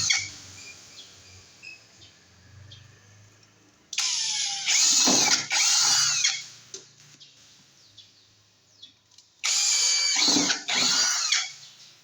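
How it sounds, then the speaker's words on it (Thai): A power drill with a metal-cutting bit bores holes in a metal frame for a DIY household project, in two loud sustained whirring bursts of a few seconds each, separated by quieter handling sounds. "เราก็เตรียมสว่านเจาะเหล็กนะครับผม โดยเราจะทำการเจาะนะครับ"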